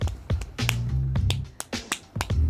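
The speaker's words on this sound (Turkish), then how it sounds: "Çok alkışla." Clapping from a cartoon: a quick run of sharp, crisp claps in an uneven rhythm, close and fairly loud, with brief musical tones between them.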